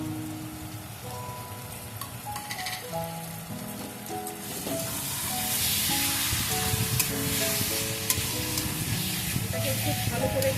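Ground cumin and coriander powder sauté in a hot pan for a Bengali dish of hilsa fish head with taro leaves, giving a steady close sizzle that swells louder midway, with quiet stirring throughout.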